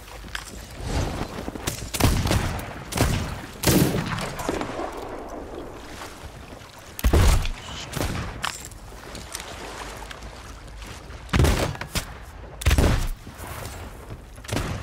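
Rapid bursts of gunfire ring out in a seafaring video game, loud and close, repeating in clusters over a constant wash of ocean and boat ambience.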